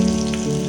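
Garlic, onion and spices sizzle and crackle in hot oil for a chicken dish, a brief, close, steady frying hiss.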